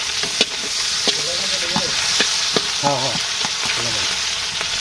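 Fish frying in a pan in a Bangladeshi village kitchen: a dense, constant close sizzle with spatter ticks, while voices talk over it at intervals.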